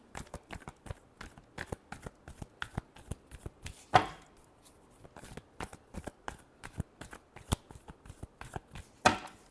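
Tarot cards are shuffled close up. Quick, crisp riffles and taps come in an irregular rhythm, with two louder slaps of the deck standing out.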